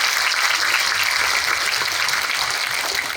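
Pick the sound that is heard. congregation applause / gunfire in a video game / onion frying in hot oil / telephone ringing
congregation applause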